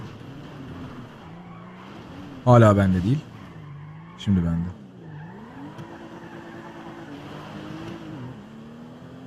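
Tires squeal as a car skids on sand in GTA V, two loud bursts, one long and one shorter, over a steady engine drone while someone talks throughout.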